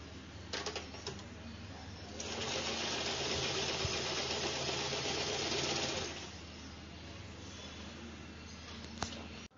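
A sewing machine runs steadily for about four seconds while stitching a front dart on a blouse, its motor whirring loud and close, with lighter handling clicks before and after.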